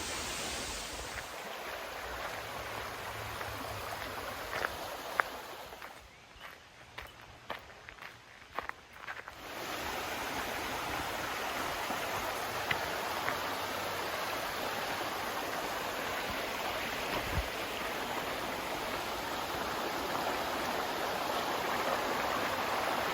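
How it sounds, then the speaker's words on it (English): Steady rushing water from the waterfall and creek at Desoto Falls, a constant broadband wash that carries on throughout, with a few footsteps and handling bumps in a muffled stretch near the start. "let's go check out the upper falls"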